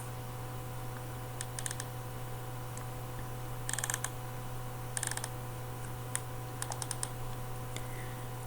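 Sharp computer mouse clicks, single and in quick bursts, sound close by over a steady electrical hum while working in ARCHICAD design software, with no talking.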